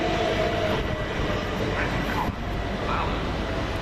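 A Brighton-bound electric multiple-unit train, class 377, passing through East Croydon station; a steady, loud rumbling roar of the moving train fills the clip, with faint background sounds.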